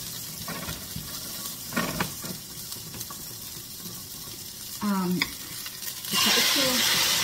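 Onions sizzling in real butter in a frying pan, a continuous hiss broken by stirring scrapes and clatter, close and moderately loud, getting louder near the end, with no clear speech.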